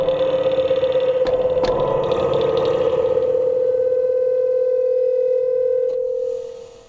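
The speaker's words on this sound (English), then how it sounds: "those are the actual springs colliding with each other inside the reverb tank" A vintage Sansui RA-700 spring reverb tank is rapped so its springs clash, giving a few sharp metallic knocks over a loud, steady droning tone that cuts off and fades at the end.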